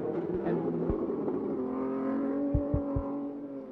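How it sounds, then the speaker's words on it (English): An Indy race car engine at the 1991 Indianapolis 500 roars and revs up, its pitch sliding and holding, with a few sharp low thumps near the end. "And the roar of that engine as Fittipaldi comes back to the fight"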